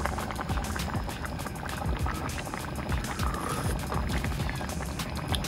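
Steady bubbling and sputtering of Kerala-style coconut fish curry simmering in a pot, continuous and close, with faint background clatter.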